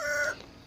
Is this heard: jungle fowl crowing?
yes